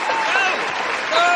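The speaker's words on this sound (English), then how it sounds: "Everybody give my boy a round of applause" A short burst of crowd applause and cheering, loud and dense, with voices shouting over the clapping.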